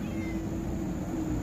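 A cat near a riverside sidewalk gives a drawn-out meow, close and steady against a noisy outdoor background.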